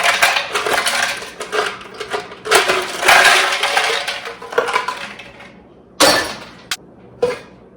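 Ice cubes being dropped into a snow cone machine clatter and rattle in several hard, bright bursts, loud and close, with short gaps and two sharp final clunks.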